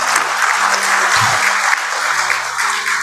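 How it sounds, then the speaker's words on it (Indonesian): An audience applauds at a corporate tribute event, dense steady clapping that fills the room, with a brief low thump partway through. "Aplaus lagi untuk Pak Jiteng."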